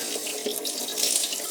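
Motor oil pouring out of a BMW E39 M5 V8 into a drain pan that is too small, a steady, close splashing gush of liquid with no break.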